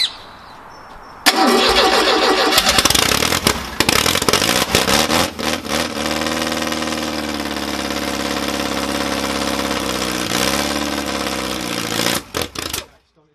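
A 1969 Ford Capri engine cranks briefly, catches and roars to life loudly, then settles into a steady, slightly uneven idle before cutting out near the end; voices are heard faintly around it.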